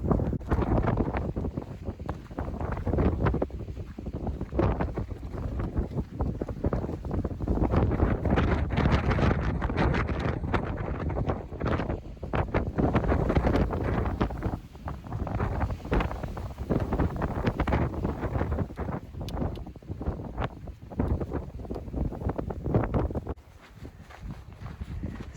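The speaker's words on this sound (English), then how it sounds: "the wind up there was just horrific" Strong wind blasts across a hiking trail at Palo Duro Canyon State Park in Texas, buffeting the microphone in a loud, continuous roar with gusty surges that hold for the whole stretch.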